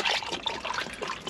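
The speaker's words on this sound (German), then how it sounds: "Einfach hier einen Shaker rein, Wasser drüber" Water pours into a shaker over energy drink powder, giving a short, close, splashy trickle with uneven gurgling bursts and no one speaking.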